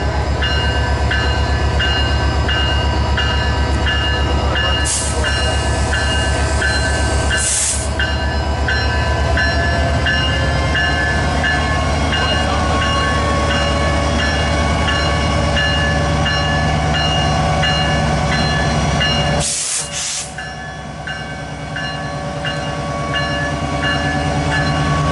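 Canadian Pacific locomotive CP 2246 leads the holiday train out of Wauwatosa, Wisconsin, a loud steady rumble of rolling cars and engine with horn blasts sounding twice.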